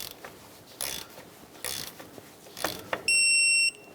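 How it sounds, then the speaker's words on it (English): A torque wrench snugs the shock nut on a 1993–1997 Ford Ranger, giving several short mechanical clicks and scrapes close by, then a steady high electronic beep near the end. "Let's go ahead and torque down our shock nut to 40 foot-pounds."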